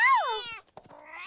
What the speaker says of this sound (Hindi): फिर से आ गई ये बिल्ली,